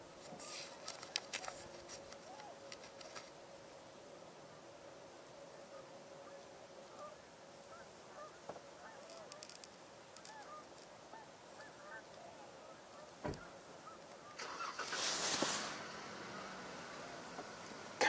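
Swans call outdoors with distant honking cries scattered through quiet ambient noise, a louder burst of sound near the end.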